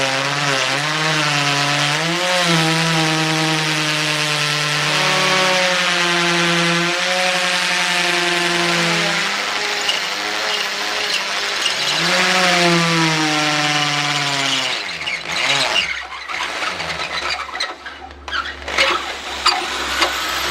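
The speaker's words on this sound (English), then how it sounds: "just keep drilling, and it should start to break up then" A drill bores steadily through a diesel particulate filter being gutted, a loud continuous grinding whine with rising and falling harmonic pitch that carries on for most of the stretch, then turns rougher and more broken as the bit breaks through.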